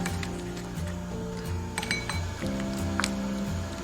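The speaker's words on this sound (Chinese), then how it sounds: "把汤汁都过滤出来" Shrimp-head and shell broth strained out of the pot, with bright glass and metal cookware clinks ringing repeatedly over a steady background of pouring and kitchen noise.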